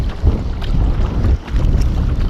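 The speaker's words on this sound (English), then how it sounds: "So the wind's definitely not helping us today" Strong wind gusting across the mic on open water at Macquarie Harbour from a fishing kayak, a steady low roar with buffeting swells and no voices.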